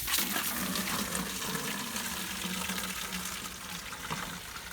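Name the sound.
water running from tap into fertilizer container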